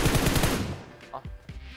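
Rapid automatic gunfire in PUBG Mobile crackles in a loud, dense burst, then thins into a few scattered shots while a voice talks over it.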